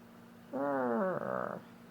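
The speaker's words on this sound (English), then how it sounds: "Her little chirp meow." An old 13-and-a-half-year-old pet cat gives a single soft chirping meow, a short rising-and-falling trill lasting about a second, quiet and close against a faint steady background hum.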